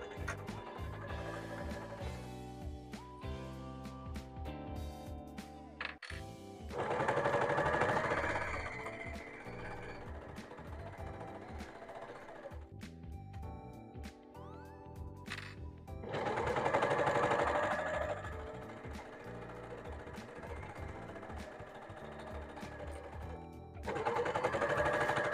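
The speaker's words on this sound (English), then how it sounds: "that's one long seam all sewn together, all up one side and down the arm" Overlocker sewing a long sweatshirt seam up the side and down the arm, running in loud sustained bursts with a steady mechanical whir and pauses between runs, stopping and restarting several times.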